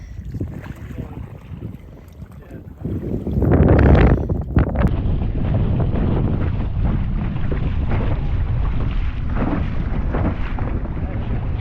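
A dinghy motors across open water, with a steady engine drone, wind buffeting the microphone and a loud burst of rushing water and wind partway through.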